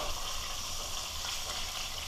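Steady, loud sizzling of white sea bass frying in a hot pan, a continuous crackling hiss with no pauses and no talking.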